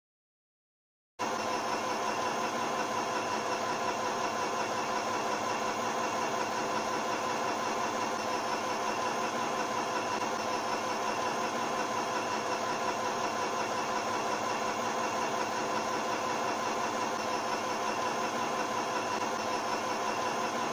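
A Singer M1005 sewing machine stitches ten inches of cloth, its motor running as a steady, even close-up whir. It starts after a brief silence and holds without a break for about twenty seconds, with no talking.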